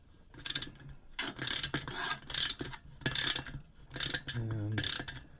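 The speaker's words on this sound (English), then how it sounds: "now I'm going to tighten it down with my handy dandy one-sided open" A one-sided open socket wrench tightening a fitting on an old pressurestat, with about six short bursts of ratcheting clicks, close and moderately loud, separated by brief pauses.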